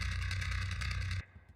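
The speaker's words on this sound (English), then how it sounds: "Bass sounds like this." Distorted bass guitar from a brutal death metal mix, thick and loud with a steady low-end drone, playing continuously before stopping abruptly, leaving a faint decaying tail.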